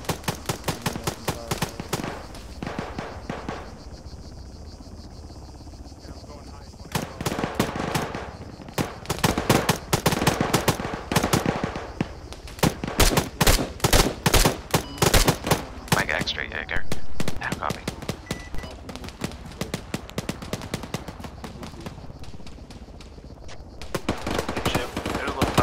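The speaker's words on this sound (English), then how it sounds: "open fire, open fire." Sustained machine gun fire bursts out in long rapid volleys, loud and close, with brief pauses between strings of shots and shouted voices mixed in during a combat scene.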